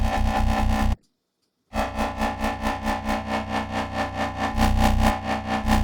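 Serum 2 synth bass patch, heavily distorted and crunchy, drones loudly with a pulsing, wobbling rhythm, cuts to a brief silence after the first second, then returns and keeps throbbing.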